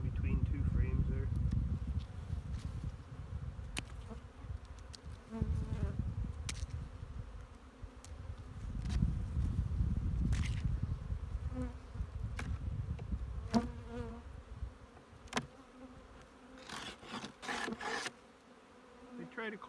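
Honey bees buzzing in a hive during a spring inspection and cleaning, with dead bees piled between frames; a dense, continuous droning hum close up, with frame handling knocks and a voice talking over it.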